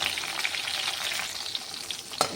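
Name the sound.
fish frying in oil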